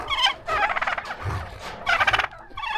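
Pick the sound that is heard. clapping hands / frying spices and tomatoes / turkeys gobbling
turkeys gobbling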